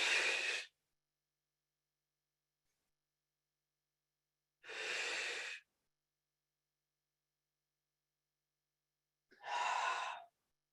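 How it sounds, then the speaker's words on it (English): Three slow, breathy exhales out through the mouth during a yoga flow, each lasting under a second and spaced several seconds apart with near silence between them. "you might find that it's satisfying to exhale out the mouth"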